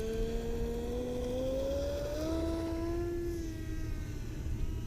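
A 3D-printed RC plane climbs under heavy power, its electric motor giving a steady, rising whine that climbs in pitch, loud and continuous with wind noise and no talking.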